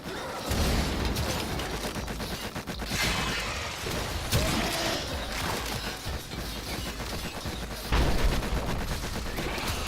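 Continuous gunfire and explosions in the sci-fi third-person shooter game Warframe, a dense, loud barrage of rapid shots and blasts that runs without a break, with heavier bursts rising now and then.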